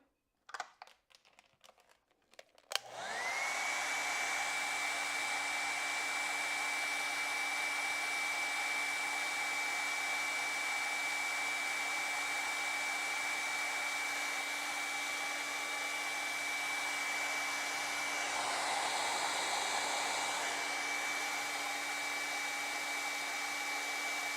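A hair dryer drying blue acrylic paint switches on after a few seconds of handling noise and runs as a steady, fairly quiet whine with a constant hum for about twenty seconds, with no talking.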